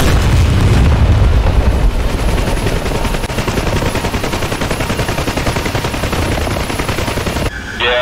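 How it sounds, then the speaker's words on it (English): Loud, dense combat noise from the DCS flight simulator near Cyprus, with booming explosions and rapid gunfire bursts packed together over several seconds, ending abruptly. "Where the explosion just happened."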